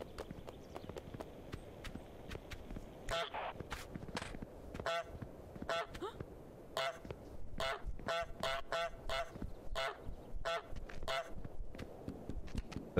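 Honking and quacking bursts from the goose in Untitled Goose Game, a series of short nasal calls repeating in uneven clusters over a soft ambient game backdrop, fairly close and moderately loud.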